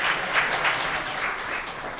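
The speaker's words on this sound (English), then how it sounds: "they have already clapped" A conference audience applauds after a talk on migrating a Spring web application to serverless, steady dense clapping filling the room without pause.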